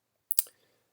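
A single mouse click selecting OK in statistics software, a sharp close double tick followed by brief faint decay and then silence.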